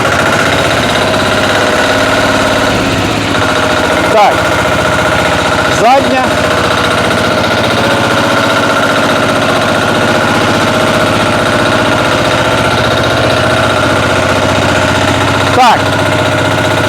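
Walk-behind tractor (motoblock) engine running steadily in the increased gear range, a loud continuous mid-pitched drone with a few brief knocks, close by and without speech.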